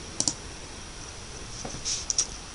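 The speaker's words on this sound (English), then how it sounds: "So you just go down here and click Next." A few light mouse clicks, sharp and close, spaced out over a quiet background as a Next button is clicked in email marketing software.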